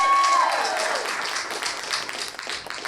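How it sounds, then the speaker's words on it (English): An audience at a chapter meeting storytelling competition applauds warmly, with dense, steady clapping that fills the whole stretch at an even level and tapers only slightly toward the end. "Everyone, let's give a round of applause to Jane."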